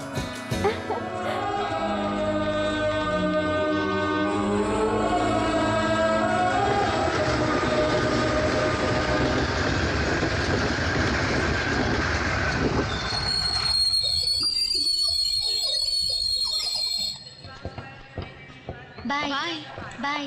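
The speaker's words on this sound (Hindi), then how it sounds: "ट्रेन आ गई, चलो।" A passenger train pulls into a station with a loud, sustained rumble and long metallic wheel squeals that fade after about seventeen seconds. People talk over the noise in a dramatic film scene.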